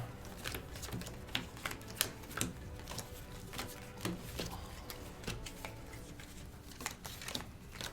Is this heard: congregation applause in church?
no